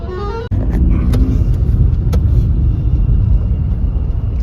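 A car creeps through a traffic jam at a highway toll gate, its low engine and road rumble droning steadily, with a few faint knocks and clicks over the top.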